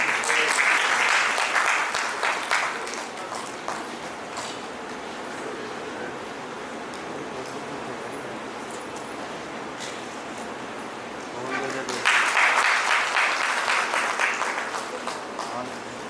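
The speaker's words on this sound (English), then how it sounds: "A big round of applause, audience." Audience applause at a school principals' conclave in Lucknow: a burst of clapping at the start fades into a quieter room with faint talk, then a second strong round of applause rises near the end.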